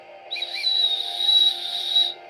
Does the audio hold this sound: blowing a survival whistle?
yes